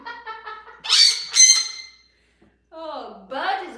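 A grey parrot gives a run of bright whistled squawks and warbling chirps, close and loud, with a brief pause before a final raspy, voice-like call that seems to imitate a spoken word.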